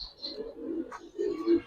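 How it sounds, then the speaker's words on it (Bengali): Pigeons kept as pet pairs, black-tailed Putul breed, coo in soft low throaty bursts, several overlapping close by, with a faint higher chirp above. "পুতুল কবুতর।"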